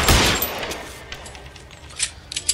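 Gunfire in the L.A. Noire video game: a loud, close burst of shots right at the start that decays, followed by a few scattered sharper shots near the end.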